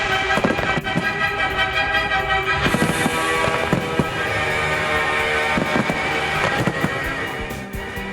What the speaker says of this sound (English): let's go back to the Fireworks Festival, where the leading pyrotechnicians of the world are ready to compete